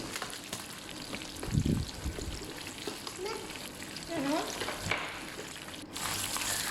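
Thattukada style chicken fry is turned over in hot oil, giving a loud, bubbling sizzle with scraping and stirring knocks close up, and a faint voice is heard briefly.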